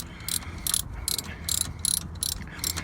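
On a wagon, a brake pad grinds against an already scored rotor, making a rhythmic scraping rasp in regular bursts about three times a second, close and moderately loud with no talking.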